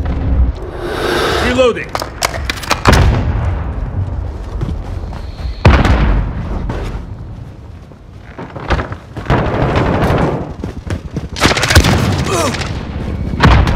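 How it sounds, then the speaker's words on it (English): Cluster strike explosions in the video game Modern Warfare, a string of loud booming blasts across the scene, mixed with game gunfire and voice callouts. "cluster strike incoming."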